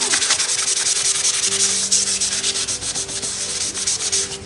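A finger rubbing a pastel drawing background to clean it, giving a close, steady rhythmic scrubbing with quick regular strokes and no voice.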